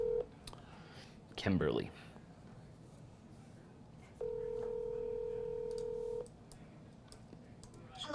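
Telephone keypad tones beep in a quick burst as a phone number is dialed, followed by a steady two-second ringback tone over a quiet room, with a voice briefly speaking at the end.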